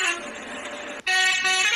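A bus horn in the Bus Simulator Indonesia game sounds a long, loud, sustained blast. It drops out for an instant, then resumes with a brighter, fuller tone.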